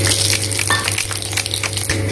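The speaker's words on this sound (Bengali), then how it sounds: "ফোড়ন দিয়ে দেবো জিরে আর পাঁচফোড়ন" Cumin seeds and panch phoron sizzle steadily in hot oil in a kadai, a loud, close, continuous frying hiss with faint utensil scrapes over it.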